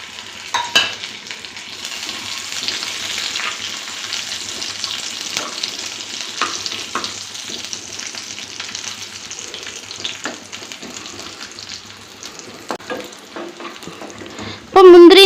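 Cashews and raisins fry in hot ghee with a steady soft sizzle, broken by occasional stirring scrapes, ending in a louder burst of activity at the close.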